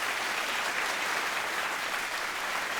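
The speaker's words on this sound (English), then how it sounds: "A round of applause." Audience applause at an awards presentation for film editors, steady and continuous clapping from a full room, moderately loud throughout with no talking.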